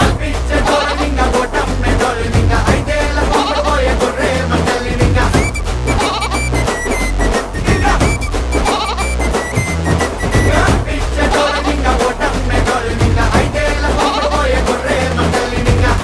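A flock of sheep bleats continuously, many overlapping calls forming a loud, dense, unbroken wall of sound with no talking.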